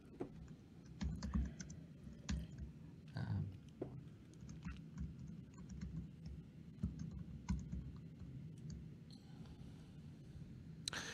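Rapid, irregular clicking of fingers typing on a computer keyboard during a live coding session, close and steady for the whole stretch, with a few louder keystrokes standing out.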